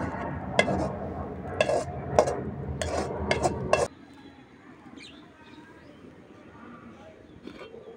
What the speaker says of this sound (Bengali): এখন হচ্ছে ভাজিটা বাটিতে বাইরে নিতেছে।